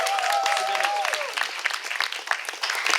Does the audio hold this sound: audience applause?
yes